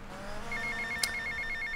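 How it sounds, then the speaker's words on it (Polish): Phone ringing in Grand Theft Auto: Vice City, a steady repeating electronic trill over game engine and street noise, with a brief sharp click partway through. "Nie mam ochoty teraz odbierać telefonów."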